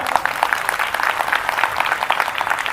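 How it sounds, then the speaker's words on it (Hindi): A church congregation at a Hindi sermon breaks into dense, sustained clapping, many hands at once, loud and close, with no speech over it. "ताली मारिए एक बार।"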